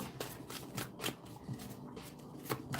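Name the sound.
shuffling tarot cards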